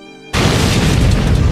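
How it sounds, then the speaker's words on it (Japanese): A sudden loud blast in the Code Geass Lost Stories video game cuts off a faint tonal backdrop, then a thick, roaring rumble sustains at full volume with no speech. "なんだ爆発。"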